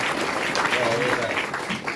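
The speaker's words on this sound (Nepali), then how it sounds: "ल ताली बजाइदिनुहोस्" Wedding guests clap after the marriage vow at a Christian holy matrimony ceremony. The applause is loud and continuous, and voices murmur and call out beneath it.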